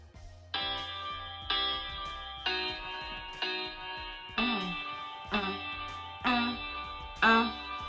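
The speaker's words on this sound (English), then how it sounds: "I hear a guitar melody that strums at the end of every beat" Guitar chords strummed in a steady rhythm in GarageBand, a bright chord struck roughly once per second over a looping backing beat, clear and close.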